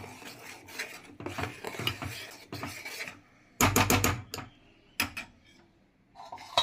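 Spatula stirring onions and tomato puree in a pan while cooking rajma, with repeated scraping, rubbing and clinking bursts of utensil against pan, loud and close, separated by short pauses.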